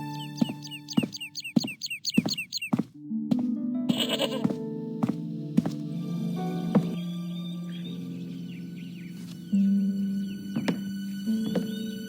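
A goat bleating in the adventure game Broken Sword: Shadow of the Templars, several loud, close bleats with knocking sounds, over a steady low musical drone.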